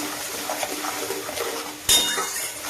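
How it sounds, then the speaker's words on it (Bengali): A tomato and onion paste with turmeric and salt being stir-fried in a pan, a soft sizzle under scraping and stirring with a sharp clink of utensil on pan partway through. "ব্যাস, এবার ভালো করে এটাকে কষবো।"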